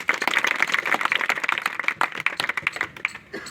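An audience claps steadily at a school foundation day ceremony, a dense patter of many hands applauding at moderate volume, with no speech.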